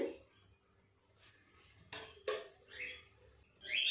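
A metal wok, a kadai, is set and handled on a gas stove, giving a few scattered clanks and scrapes against the burner that are fairly quiet with silence between them and no talking.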